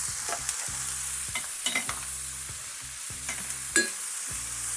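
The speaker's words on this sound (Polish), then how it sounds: "Będzie pięknie podsmażony." Steady sizzle of chicken frying in a pan, with occasional scrapes and clinks of a utensil stirring, close and continuous.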